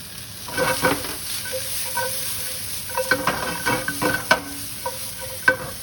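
Shiitake mushrooms and carrots saute in a pan, giving a soft continuous sizzle broken by irregular scraping and clinking stirs from a utensil, close and moderately loud with no voices.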